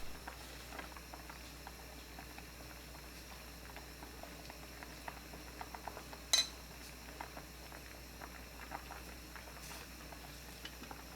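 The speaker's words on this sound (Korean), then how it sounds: "대구가 완전히 익을 때까지 끓입니다" Korean cod stew (daegutang) with roe, innards, napa cabbage, green onion, chili and tofu simmering in a pot, a faint steady bubbling patter under low background hum, with one sharp clink of a utensil midway.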